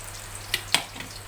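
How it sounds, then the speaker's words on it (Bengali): Eggplant slices frying in a pan give a faint, steady sizzle, broken by two brief, sharper crackles close by. "বেগুন ভাজা"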